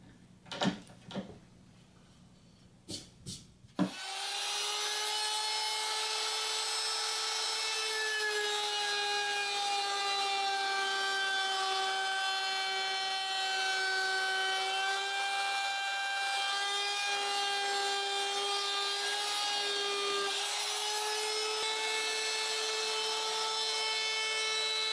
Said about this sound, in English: Now I'm just going to round over these edges.